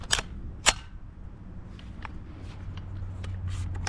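A spring-loaded dust cover on an HK 416 .22LR rifle snaps open and shut: two sharp metallic clacks close together near the start, then softer light clicks and handling noises over a low hum.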